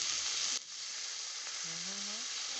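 Ginger, garlic and onion paste frying in hot oil outdoors in a village setting, a bright loud sizzle that drops sharply after a moment to a softer steady hiss, with a faint tonal hum near the end.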